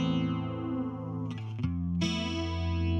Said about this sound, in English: And then check out what happens with the flanger.